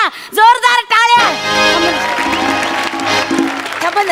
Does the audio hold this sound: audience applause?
yes